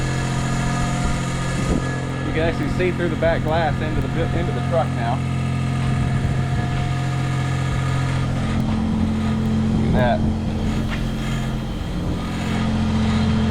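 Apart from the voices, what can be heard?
1979 Jeep Cherokee Chief engine idling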